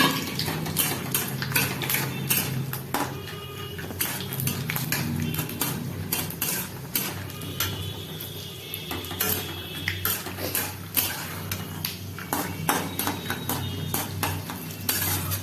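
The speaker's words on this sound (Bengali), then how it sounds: "এক চামচ ঘি দিয়ে দিচ্ছি বাদাম" Peanuts frying in ghee in a pan, with a spoon scraping and clinking against the metal over a steady soft sizzle, close and continuous without talk.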